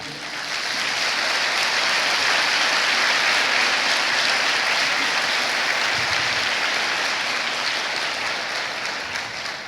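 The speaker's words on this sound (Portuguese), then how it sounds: "Aplauda o nome de Jesus, porque Ele é poderoso." A church congregation applauds during worship, a broad, sustained wash of clapping from a large crowd lasting nearly ten seconds and fading slightly at the end, with no talk over it.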